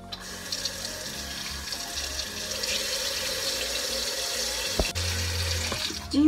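Tap water runs steadily into a kitchen sink to rinse frozen non-marinated meat pieces, a continuous close hiss with small clatters and knocks of handling throughout.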